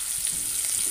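Spring onions fry in a hot pan for a prawn chilli dish, giving a steady, close hissing sizzle with faint stirring and no talk.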